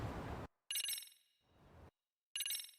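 A phone ringing in the video game Lost Judgment, a bright electronic ringtone that chimes in two separate bursts with silence between them, heard after a short stretch of other game noise.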